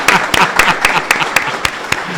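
Sparse applause from a small group, a handful of sharp, distinct claps in an uneven rhythm, close and fairly loud, with some talking mixed in.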